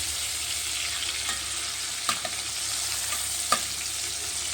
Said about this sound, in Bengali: এখানে প্রায় ভাজা হয়েছিল চিংড়ি মাছ তো একদম অল্প করেই ভাজবো